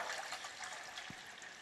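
Water trickling and pouring into a can holding a gallon of gasoline, a thin steady stream heard close and alone at a low, even level.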